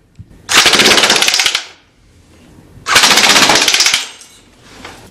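A full auto slingshot minigun fires indoors in two long rapid bursts, each a loud, dense rattle of shots lasting about a second, with a quiet pause between them.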